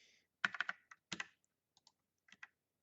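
Keys pressed on a computer keyboard while entering a shortcut in CAD sketching software: three separate bursts of quick, close clicks with short pauses between them, and no talking.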